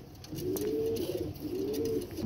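Pigeons coo in a loft with low, rolling, repeated calls that swell and fade up close over a faint background hum.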